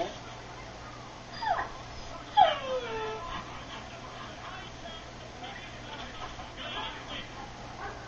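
A dog in Assassin's Creed III gives two brief whimpering whines close together early on, over a faint steady game backdrop.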